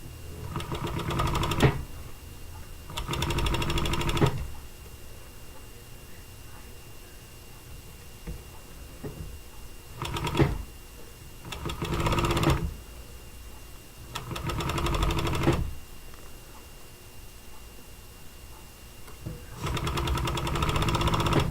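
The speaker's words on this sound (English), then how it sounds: "And then you just start sewing it on." A sewing machine stitches a band onto fabric in about six separate whirring bursts of one to two seconds each, with quiet pauses between them, heard up close.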